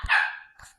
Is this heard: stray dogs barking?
yes